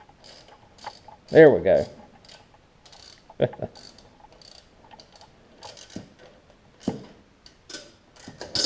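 A ratchet wrench tightens bolts on a Snapper riding mower, giving several quick clicking ratchet bursts spaced a second or so apart, close by, with a brief spoken remark near the start.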